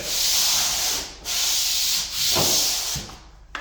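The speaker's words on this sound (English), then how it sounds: "I'll put my sander right into the edge" A hand sander rubs across a drywall joint edge in three long close strokes, a dry, loud scraping hiss broken by short pauses between passes.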